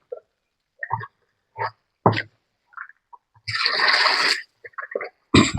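A rush of water pours for about a second into a farm tonic mixture being stirred, amid scattered clinks and knocks, with louder clatters before and after.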